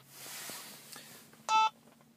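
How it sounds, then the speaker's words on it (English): A short electronic beep from an HP 905 control switch changing from receive to parking sensor mode sounds once, clear and close, after a stretch of faint hum and soft clicks. "That beep that you heard was the HP 905 switching from receive to parking sensor mode."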